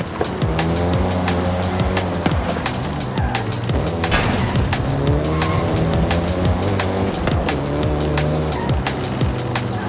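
A Volkswagen Golf GTI in Forza Horizon 5, driving in Mexico, revs hard with its engine pitch climbing and dropping through repeated gear shifts, while tires squeal and scrub throughout at a loud, steady level.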